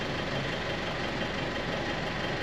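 A Mitsubishi Triton 4M41 3.2L diesel engine idles while warming up to coolant temperature, giving a steady, even low rumble that holds without change from start to finish.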